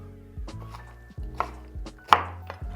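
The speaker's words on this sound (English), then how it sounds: "Roughly chopping shallots." A knife roughly chops shallots on a cutting board, giving several sharp, close knocks at an uneven rhythm, each with a brief clatter, and no voices.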